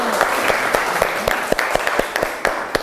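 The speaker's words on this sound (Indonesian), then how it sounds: "kita aplaus dulu" Classroom applause after a student group finishes its presentation: a steady wash of many hands clapping at close range, with sharp individual claps standing out over a continuous crowded patter for a few seconds.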